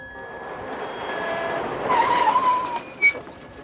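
A taxi's engine revs up and roars past at speed, with a brief tire squeal near the end.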